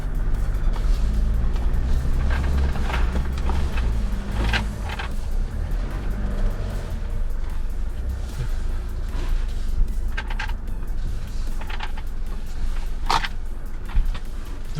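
A 2021 Mitsubishi Triton Super Select 4x4 pickup climbs a steep left-hand hill, its engine a steady loaded drone with scattered clunks and knocks from the drivetrain and terrain.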